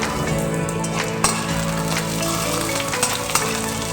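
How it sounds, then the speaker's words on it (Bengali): Cauliflower fries lightly in a pan with a dense, continuous sizzle and crackle, loud and close, with a few soft knocks of a utensil. "ফুলকপিটাকে আমি আগে হালকা করে ভেজে নেব"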